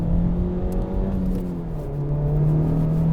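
A Honda Civic Type R hums with a steady low engine drone and road rumble on a rough road, the pitch shifting slightly as it drives, close and continuous.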